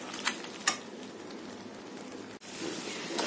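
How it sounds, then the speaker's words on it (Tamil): Crab masala sautéing on a medium flame in a spicy Tamil-style nandu masala, giving a steady close hiss of frying with a few sharp spatter pops, a brief dropout midway, and no talking. "நல்லா வதக்குங்க."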